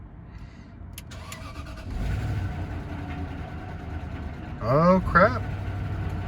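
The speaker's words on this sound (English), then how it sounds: "So let's go ahead and give it a crank." A cheap auction Range Rover that has sat a long time without oil cranks and catches, then settles into a steady, fairly quiet idle, with a man's brief exclamation over the running engine near the end.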